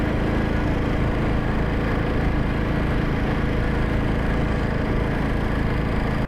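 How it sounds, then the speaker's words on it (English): A 2006 Royal Enfield 500cc Bullet motorcycle, made in India, idles close by with a loud, steady, unbroken engine drone that holds at one level throughout. "This is a 2006 Royal Enfield 500cc Bullet, and it's made in India."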